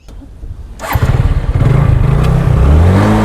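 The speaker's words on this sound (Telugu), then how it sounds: "ఈ ఫస్ట్ స్టెప్లో అయితే మనకి బైక్ అనేది స్టార్ట్ చేద్దాం" A motorcycle engine fires up after a short cranking clatter, then settles into a loud, steady idle that stays close and continuous to the end.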